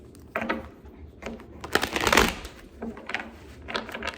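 Tarot cards are shuffled close up in several quick riffling bursts separated by short pauses, loudest near the middle, with no speech.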